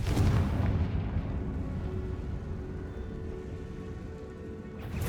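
A Confringo spell from Hogwarts Legacy blasts a barricade: a loud, close booming explosion with a heavy low-end rumble that holds steady for several seconds before a second burst at the end.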